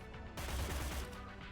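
Gunfire in the tactical video game Cyber Knights: Flashpoint, a sudden loud burst that cuts in after a quiet moment and rumbles on with a thick low boom before fading slightly.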